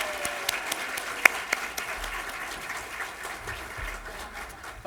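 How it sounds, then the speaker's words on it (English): Steady applause from a crowd, many hands clapping continuously with a few sharper claps standing out, fading slightly toward the end. "Can we give these all another round of applause?"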